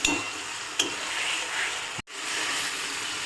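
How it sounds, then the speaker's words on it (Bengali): Marinated duck meat added to hot oil and stirred in a frying pan, giving a loud steady sizzle with spatula scrapes and a brief cut in the middle. "মাংসটা দিয়ে দিলাম এবার আমরা এর মধ্যে। এবার ভালো করে কষতে হবে।"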